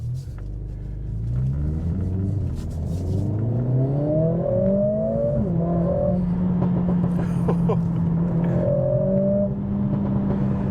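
A Mercedes CLA45 S engine with a modified exhaust rumbles deep and loud, rising in pitch as it revs up, settling, then revving again, heard from close by.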